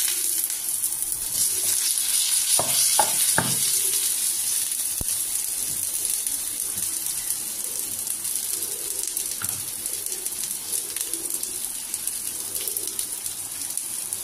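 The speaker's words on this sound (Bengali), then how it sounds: "আদা জিরে বাটা দিতে এত আওয়াজ হচ্ছে ফটফট করে।" Ginger and cumin paste frying in hot oil with raw plantain pieces, a steady close sizzle with a few sharp crackling pops early on, no talking.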